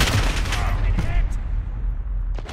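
Loud, close gunfire in Call of Duty: Modern Warfare, a short dense burst of shots and booms that rings out and decays, with game radio chatter around it.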